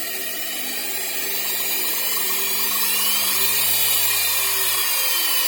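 A motor-driven shaft for a log splitter spins steadily, producing a continuous whirring drone with a high mechanical whine, close and loud throughout, with no speech.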